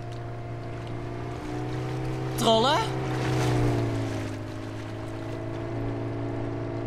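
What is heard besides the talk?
large boat engine in fog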